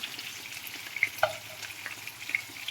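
Chicken fries in oil and is scooped out with a spoon, heard as a faint, close low sizzle with a few soft clinks and scrapes and no talking.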